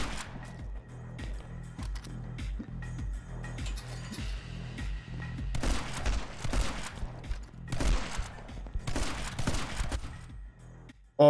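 Shotgun fire in the side-scrolling action game My Friend Pedro: a run of sharp, punchy blasts at uneven intervals over a pulsing low soundtrack, some shots clustered close together, fairly loud and near.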